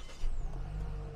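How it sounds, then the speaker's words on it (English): A 2020 SsangYong Korando Sport with a 1.5-litre petrol engine and automatic gearbox starts up, its low engine rumble swelling briefly and then settling into a steady, close idle. "Let's turn the car on."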